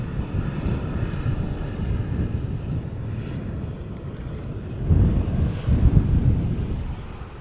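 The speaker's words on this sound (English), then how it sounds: "Cirrus is passing overhead. Not seeing it, but you are able to hear it quite well." Cirrus light aircraft passing overhead near Schiphol Airport, a distant low propeller-engine drone that swells louder toward the end, mixed with wind rumble on the microphone.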